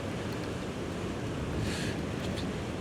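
Wind buffets the microphone while fishing for cod at sea, a steady rumbling roar with a faint hiss, a slightly stronger gust near the middle and no talking.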